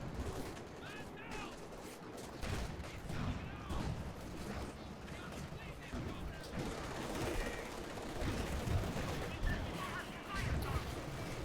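Artillery shells and gunfire in a Company of Heroes 2 battle: a dense, continuous rumble of distant booms and scattered shots that carries on without a break under steady game noise.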